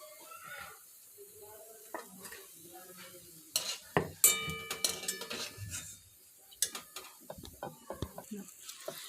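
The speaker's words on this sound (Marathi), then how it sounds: "हे बघा आता आपण तिसरी पण बॅच तळून घेत आहोत" Wheat-flour gulgule fritters fry in hot oil with a soft sizzle, while a spoon turns them in the pan with intermittent close scraping and clinking.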